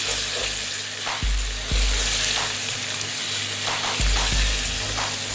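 Spice masala of salt, red chili and turmeric fries in a pan for chana daal with a steady loud sizzle, broken by a few stirring scrapes and thumps, close and with no talking.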